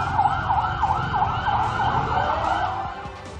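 Fire truck sirens sound as engines arrive at a house fire in a narrow alley in Manila: a loud, continuous wailing siren that rises and falls steadily over a low road rumble.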